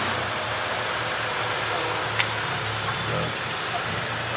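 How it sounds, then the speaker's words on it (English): JDM cars such as a Civic and a Lancer pulling into a car meet in Singapore; a low, steady engine idle hums close by with a continuous rumble and no talking. "More cars are pulling in right now"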